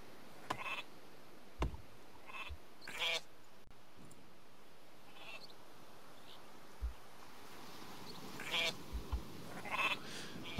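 Sheep bleat in short, scattered calls within the Northgard strategy game, faint and intermittent over a quiet ambient background with occasional soft clicks.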